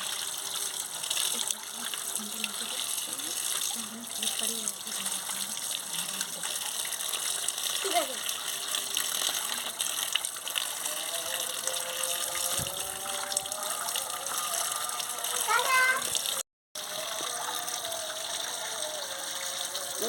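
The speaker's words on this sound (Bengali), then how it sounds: "চটকে চটকে ভালোভাবে ধুয়ে নিচ্ছি" Chopped kalmi greens (water spinach) squeezed and washed by hand in water, giving a continuous wash of splashing and sloshing with occasional louder gushes and a voice now and then.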